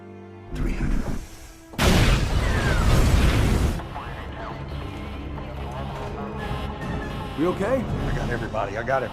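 A sudden loud blast inside a prison isolation cell erupts with a burst of roaring noise lasting a couple of seconds, then fades into a rumbling background with voices and mechanical sounds.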